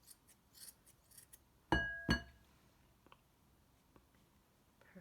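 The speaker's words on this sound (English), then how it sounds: "And then you might have to do some trimming" Scissors trim fuzzy yarn on a pom pom with two sharp, close snips in quick succession, surrounded by faint rustling and quiet handling noises.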